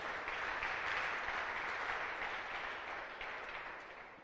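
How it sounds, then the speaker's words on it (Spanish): A church congregation claps together in sustained applause during a sermon, a dense, even wash of hands that slowly fades toward the end, with no speech over it. "Dale una ofrenda de palmas a Dios."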